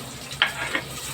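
Onions sautéing in a hot pan with garlic, a brief soft sizzle marked by a couple of quick spatula clicks, heard close and fairly quiet.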